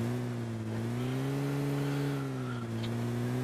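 A car in a video game drives off with a steady, loud engine drone that shifts slightly in pitch as it accelerates, holding close and continuous with no talking over it.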